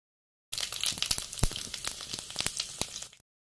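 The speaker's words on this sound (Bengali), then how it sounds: "এই যে কড়াইয়ে বসিয়ে দিলাম, সম্বারের জন্য বসিয়ে দিলাম তেজপাতা, শুকনো লঙ্কা, তেল দিয়ে" Bay leaves and dried red chillies fry in hot oil in a wok as a tempering, giving a steady crackling sizzle with sharp pops for about three seconds, close and fairly loud.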